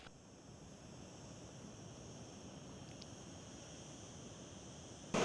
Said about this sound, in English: We've made it down to the beach.